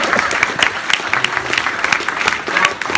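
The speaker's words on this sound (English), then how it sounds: "another round of applause for..." An audience applauds at a keynote address in Australia, a dense, steady clapping that stays loud and continuous throughout with no talk over it.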